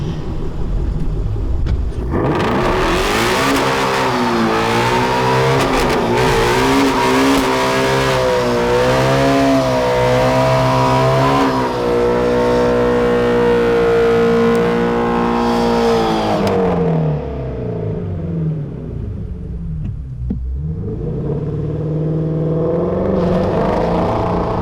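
A Shelby Mustang GT350 with 526 horsepower does a line-lock burnout, its engine revving loudly and holding high for about fifteen seconds before the revs drop, dip sharply and then climb again. Nobody speaks.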